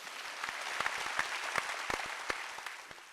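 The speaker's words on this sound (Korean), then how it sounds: "박수 치라" A church congregation claps during a Sunday worship service, a steady wash of applause punctuated by sharp individual claps, moderately distant and sustained throughout.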